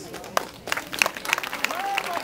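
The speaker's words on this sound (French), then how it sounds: "On peut l'applaudir très fort" Outdoor crowd at a cross-country race podium breaks into scattered clapping and cheers, with a voice heard among the applause.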